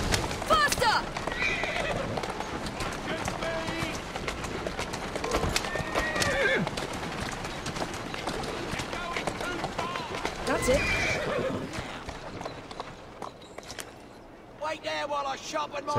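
Horse-drawn carriage in Assassin's Creed Syndicate: steady clip-clop of hooves with occasional neighs and whinnies, close and continuous, under someone talking throughout.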